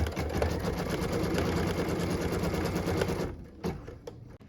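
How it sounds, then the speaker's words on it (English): An embroidery sewing machine stitches a tack-down line on a quilt block piece held in its hoop, running as a rapid, even mechanical chatter for about three seconds before stopping, followed by a few scattered clicks and handling noises. "we're stitching it piece number 6 tack down line"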